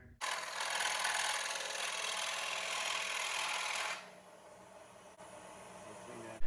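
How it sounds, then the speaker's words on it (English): A steady, buzzing scroll saw grinds through wood for about four seconds, then the cutting noise drops to a quieter mechanical hum. "Then it's over to the scroll saw"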